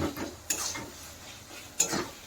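A spoon stirs masala being sautéed in a pan for Bengali mutton curry with potatoes, giving two distinct scraping clinks against the pan over a faint low sizzle, close and otherwise quiet.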